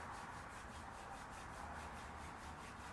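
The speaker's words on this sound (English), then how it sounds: "rub your palms together. Put that heat in between the hands" Palms rubbing briskly together during a yoga session, a close, soft, continuous swishing friction with a steady back-and-forth rhythm and nothing else heard.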